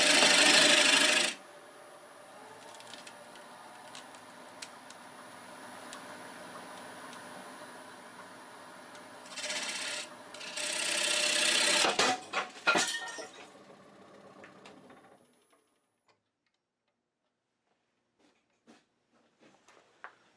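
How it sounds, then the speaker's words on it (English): A hand-braced scraper rasps against a spinning workpiece on a wood-turning lathe, steady scraping with faint clinks under a constant motor hum, two louder bursts as the cracked wood gives way, then near silence. "I think I'm going to brace it with my hand and maybe use a scraper"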